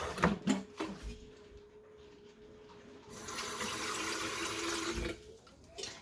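Tap water runs steadily into a cup or kettle for a few seconds while rinsing ahead of making black coffee with chalky, hard water in a UK kitchen, with a short clatter before it starts and after it stops.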